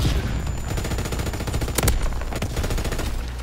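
Rapid gunfire in the video game Call of Duty WWII, a dense volley of close, booming shots with a sharper burst partway through, heard without talking.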